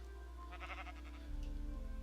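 A sheep bleats in the video game Minecraft, one short wavering bleat at moderate level over a low steady background hum, with no talking.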